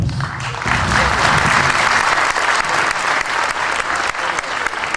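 A conference hall audience applauds its panelists in a dense, sustained burst of clapping that stays loud for the whole stretch.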